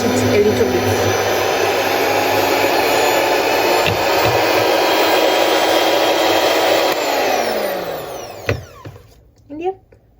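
Electric mixer whirring steadily at high speed as it spins whipped cream off the whisk, loud and continuous close by before winding down and stopping with a few clinks at the end.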